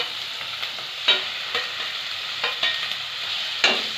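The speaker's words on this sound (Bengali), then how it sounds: "এবার মশলাটাকে ভালোভাবে কষিয়ে নেব।" Ginger, cumin and chili paste masala fries in a pan for a fish curry, a constant sizzle broken by several sharp scraping strokes as the spatula stirs it, no talk.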